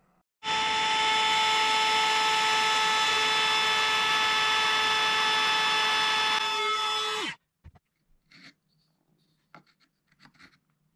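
A wood router rounds the outer edge of a wooden chain link: a loud, steady high-pitched whine runs for about seven seconds, then cuts off, followed by a few faint clicks and light handling noises.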